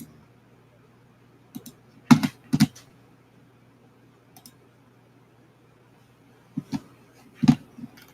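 Computer keyboard typing in sparse bursts of clicks, a few keystrokes near the start and clusters around two and seven seconds, moderately close, with a low steady hum beneath.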